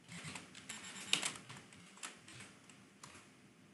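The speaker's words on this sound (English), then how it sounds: "So I'm going to type Incus config." Close, quiet keystrokes tap out a command on a computer keyboard, coming in quick uneven bursts with one sharper click partway through.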